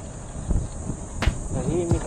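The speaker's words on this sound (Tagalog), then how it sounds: "Mga kuliglig lang yung maririnig mo." Crickets chirp in quiet roadside surroundings near Tagaytay, a thin high buzz running under soft knocks and a few brief scattered sounds, with nothing else loud nearby.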